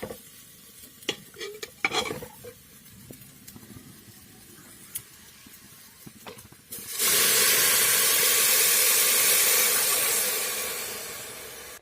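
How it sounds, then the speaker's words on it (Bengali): Water poured into pulao rice that was fried deep red in a pressure cooker sets off a sudden loud, steady steam hiss and sizzle after a few quieter stirring clatters, staying strong before easing slightly at the end. "এখন দিয়ে দেবো জল।"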